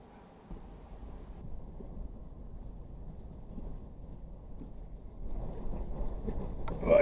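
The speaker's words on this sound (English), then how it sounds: "that wind is not letting up." Strong, gusty wind roars steadily against the microphone outdoors, a continuous low rumble that swells louder near the end, with no talking.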